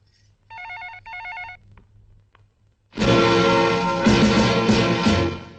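Telephone ringing in an old Hindi action film: two quick electronic trills, then a pause and a loud burst of dramatic music.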